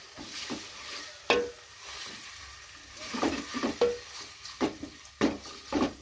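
Food sizzles softly in oil for a Telangana-style fish curry while a spoon stirs and scrapes the pan in several short, distinct strokes.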